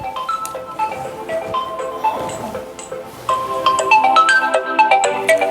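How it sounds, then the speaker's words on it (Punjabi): A phone ringtone plays loudly and continuously, a repeating bright melodic tune sounding for an incoming call with no talk over it. "ਕਿਦਾ ਫੋਨ ਆ ਗਿਆ ਹੀ ਹੋਣਾ"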